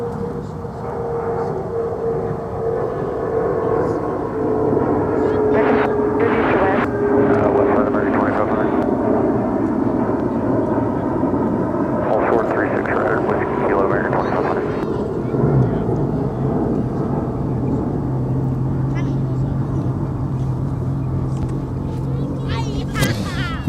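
A brand new UPS cargo jet passes at Dallas-Fort Worth airport, a loud, steady roar of engines that swells and holds throughout, with people talking over it.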